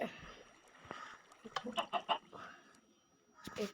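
A video game chicken clucks in a short burst of several quick, fairly close clucks in the middle, with faint background sounds and a light voice at the start and end.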